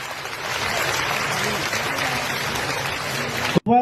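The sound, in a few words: crowd applause welcoming saints at ashram ceremony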